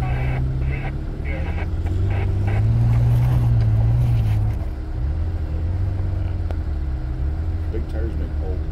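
An off-road vehicle on big, aggressive-grip tires drives near Clear Creek Hot Springs, its engine giving a steady, loud low rumble that swells for a few seconds before settling back.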